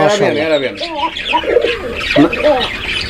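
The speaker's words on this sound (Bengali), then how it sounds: "এখানে আরো একজোড়া কবুতর আছে সোহাগ ভাই এটা কি কবুতর এটা কোকা কোকা কবুতর একটা জোড়া" A pair of Koka pigeons coo close by in repeated soft, rolling, throaty calls, loud and continuous with slight chirps in between.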